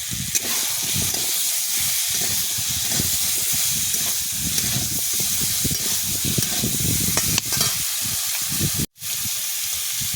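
Tamarind water with salt hits a hot pan in a Bengali village kitchen, giving a loud, continuous sizzle and steamy hiss with stirring, close and steady, broken by one brief dropout near the end.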